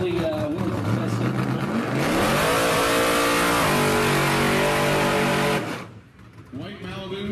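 Car revving hard at a drag strip before a wheelie contest, the engine pitch climbing and holding loud for several seconds before cutting off, and a brief rev follows.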